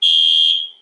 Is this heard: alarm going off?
yes